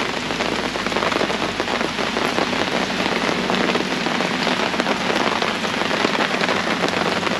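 Heavy rain falls outdoors in a dense, constant hiss of drops striking surfaces, loud and unbroken throughout with no talking.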